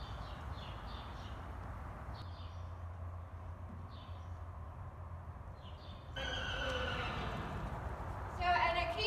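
A horse outdoors on a fine riding day: a short whinny near the end over breezy open-air background, with people talking and faint bird calls around.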